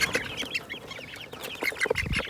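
Hens in a backyard coop cluck and squawk close by, with many overlapping calls in irregular bursts and no talking.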